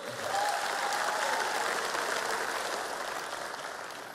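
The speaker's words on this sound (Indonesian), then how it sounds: "Tepuk tangan untuk kita semua" A large audience applauds at an Indonesian presidential campaign rally, a sustained, even wash of clapping from a big crowd that swells briefly then slowly tapers off, heard from some distance.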